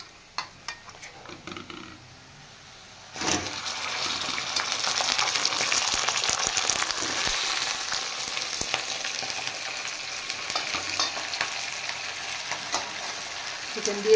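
Chicken pieces dropped onto fried onions in a hot pan, a quiet lead-in giving way to a sudden loud burst of sizzling that settles into steady, dense frying hiss for the rest.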